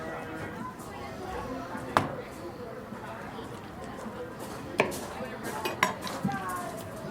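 A knife cuts through the joint of a Thanksgiving turkey leg, giving a few sharp clicks and cracks over a steady background of kitchen noise.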